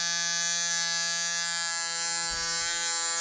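A cheap £9 tattoo machine from WISH runs at 9 volts with a steady, harsh electric buzz, loud and close throughout, with one brief thump near the middle.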